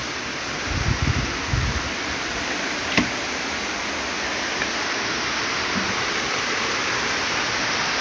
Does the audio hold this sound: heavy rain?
yes